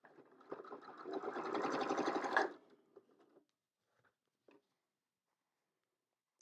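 A sewing machine stitches pieces of a plus-sign quilt block in a steady rapid whir for about two and a half seconds, then slows and stops, leaving a few faint clicks in near silence.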